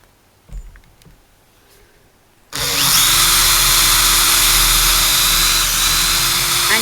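After a couple of quiet seconds with faint handling, a drill starts abruptly and runs loud and steady, boring through a plastic-coated recycled cork clamped tight in a holding tool.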